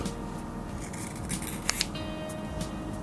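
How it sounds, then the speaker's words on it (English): Scissors trim the top edge of a replacement sole for a worn New Balance M430 shoe, giving a couple of crisp close snips over quiet room noise. "I guess I'll just trim off the very top"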